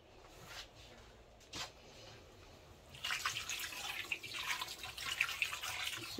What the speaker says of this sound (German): Okay, dann gebe ich noch ein bisschen Wasser.